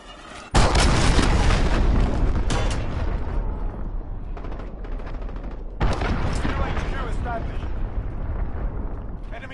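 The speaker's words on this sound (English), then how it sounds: "Enemy cruise missile incoming. Take cover." Cruise missile strikes in a video game, a sudden heavy blast followed by sustained rumbling explosions and a second big impact, loud and booming, with radio-style voices over the din.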